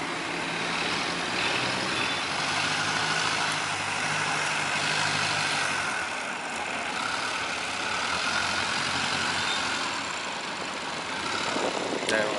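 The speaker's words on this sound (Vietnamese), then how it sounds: "Máy Mitsubishi nha mọi người." A Mitsubishi engine runs on a boat among large barges, giving a steady, continuous mechanical drone with low rumbling hum throughout, fairly close and alone without talk.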